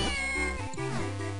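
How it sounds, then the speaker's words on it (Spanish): A cat enemy in The Legend of Zelda: The Minish Cap meows and yowls in a drawn-out, wavering call that rises and falls over about a second and a half, clear and alone. "Si ese gato nos está atacando."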